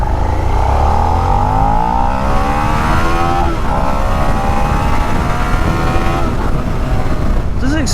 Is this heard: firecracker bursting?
no